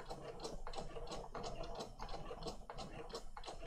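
Close-range sewing machine stitching a paper junk journal tag, giving a quick run of rhythmic mechanical clicks and whirs that hold steady over a few seconds.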